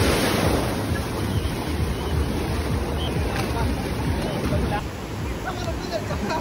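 Sea waves wash onto a Goa beach on a cool, drizzly day: a steady, loud roar of surf and wind rushing across the microphone, with crowd babble and voices mixed under the constant wash.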